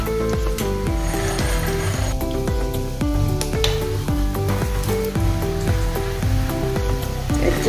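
Bread and poha snack pieces fry in oil with a constant hissing sizzle, partly under loud rhythmic background music that runs throughout.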